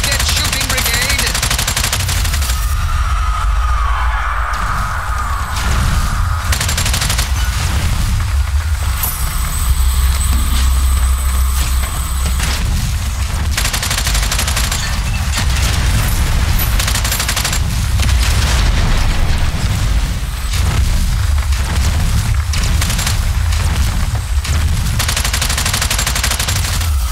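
Sustained gunfire and explosions in the Strange Brigade mission at the Pyramid of Bes, with rapid bursts and booms packed densely over a continuous rumbling game soundscape.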